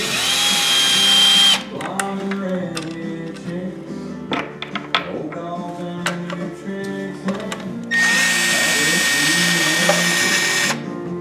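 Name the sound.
power drill removing 8mm bolts from ATV plastic cover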